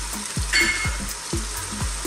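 Chopped onions hit a hot stew pot for Greek lamb stew and crackle loudly, a close, continuous sizzle broken by repeated low thumps and scrapes as they are stirred.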